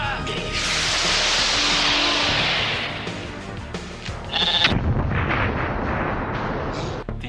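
A sheep bleats amid heavy, rumbling explosive blasts in the 1987 New Zealand comedy splatter film Bad Taste, the loud, dense roar filling the whole stretch with a sharper crack partway through.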